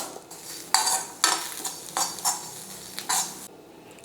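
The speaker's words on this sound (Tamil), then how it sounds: "இந்த தேங்காவை இதில் சேர்த்து வறுத்துக்கலாம்" Dry, peeled coconut pieces are roasted and stirred in a pan, giving a series of close, scraping and rattling stirs at a steady rhythm, with no voices.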